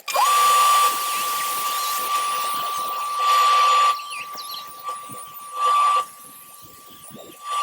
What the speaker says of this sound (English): I'm just very, very careful about what part of the sanding disc is being applied to the wood